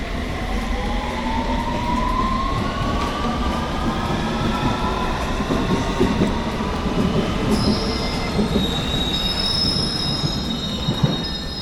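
A London Underground tube train runs along the rails, its wheels squealing in long rising and falling shrieks over a constant rumbling roar, loud and close throughout, with sharp high squeals joining near the end.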